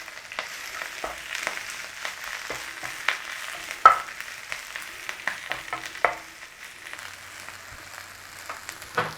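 Watercress wilting in a hot pan, close and crackling, with scattered sharp pops and the scrape of stirring over a soft sizzle that eases toward the end, with no voices.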